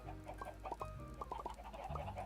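Chickens in Minecraft cluck in a quick run of short, pecking calls over a low steady game backdrop, fairly close and moderately loud with no speech.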